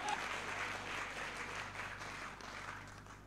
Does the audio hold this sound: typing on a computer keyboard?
no